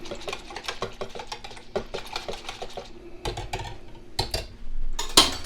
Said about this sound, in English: I'm going to whisk all of this together, right in the same cup.